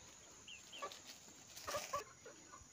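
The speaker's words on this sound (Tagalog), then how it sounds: "magpapakain muna ako ng mga alaga kong manok. Kasi nanghihingi na sila ng pagkain." Pet chickens cluck in short, scattered calls, a few sharper notes standing out over a steady background hiss, fairly faint and close with no talking.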